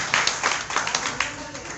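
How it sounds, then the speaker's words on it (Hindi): Applause from a gathering at a Jain meditation guru's sermon in a Gwalior market, brief bursts of clapping mixed with talk over it. "ताली बजा दीजिए, बहुत बढ़िया"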